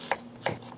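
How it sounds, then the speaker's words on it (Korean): Knife dicing onion into small squares on a cutting board: two crisp chops in quick succession, close by, with a faint background hum. "네모네모나게 썰어 주십니다"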